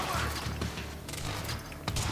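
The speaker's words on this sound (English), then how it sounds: "You might be able to actually hear the gunshots and everything." Gunfire in the action video game Quantum Break rattles out as a dense burst of shots and mechanical clatter, loud and continuous over a short span.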